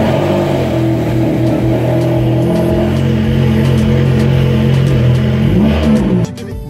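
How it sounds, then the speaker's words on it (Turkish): A Ferrari revs its engine with a loud, steady drone, then accelerates and drives off, and the sound drops away sharply near the end. "Ferrari'yi de aldık, gidiyoruz."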